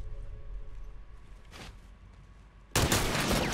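Gunfire in The Last of Us multiplayer: a quiet stretch with a faint single shot, then a sudden loud, sustained burst of shooting that carries to the end.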